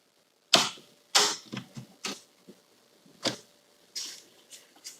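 Tin snips biting through the metal runners of an acoustical ceiling grid in a mobile home basement: a series of sharp, close metallic crunches and clicks in an irregular rhythm, with no talking.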